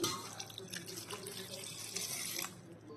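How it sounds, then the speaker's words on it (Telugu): Water poured into a mixer jar holding tomatoes, onions, garlic and tamarind for a moong dal recipe: a steady, close splashing flow that runs for about two and a half seconds, then tapers off. "తగినంత వాటర్ పోసుకుందామండి."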